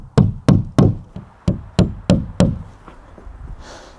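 Nails are tapped into place as spacers for wall sheathing on a DIY cabin, seven or eight sharp close hammer knocks in a quick, slightly irregular rhythm, then quieter taps fading out.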